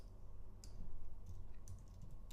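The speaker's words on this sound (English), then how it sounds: "let's type that in." Typing on a computer keyboard: a few soft, scattered keystroke clicks over a quiet room background, faint and without speech.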